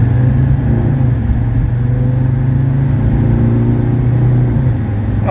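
A 1982 Mercedes 300SD diesel engine drones steadily and loud from inside the car as it accelerates on a test drive, a continuous low hum with a slowly rising tone and no pauses.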